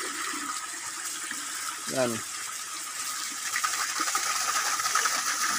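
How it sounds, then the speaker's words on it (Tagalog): Water pours steadily out of a swimming pool fed by Ginlologayan Falls in Northern Samar, a continuous, close rushing flow with a voice speaking briefly over it. "dyan po dumadaan yung tubig palabas dito mga idol"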